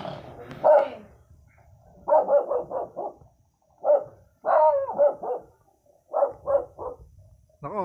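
Dogs bark in clustered bursts of three to five sharp, loud barks separated by short quiet gaps, close by, with faint low background rumble between the volleys.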